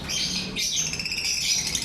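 Caged birds offered at a bird sale chirp and tweet in quick, overlapping high calls, a busy near chorus that carries on throughout with no talking.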